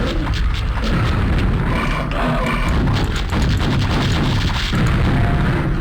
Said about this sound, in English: you just fire multiple rockets, it rips its health without you even needing to do anything